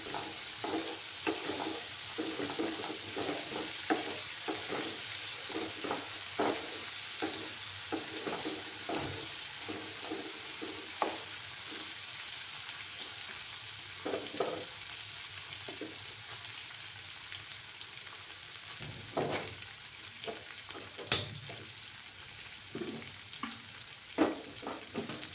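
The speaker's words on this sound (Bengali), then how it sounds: "যাতে করে আদা তার রসুনের কাঁচা গন্ধটা না যাওয়া অবধি আমাকে কষিয়ে যেতে হবে।" Ginger-garlic masala frying and being stirred in a pan for a katla fish curry, a steady sizzle throughout with repeated scraping and clinking stirring strokes, close and continuous, no talking.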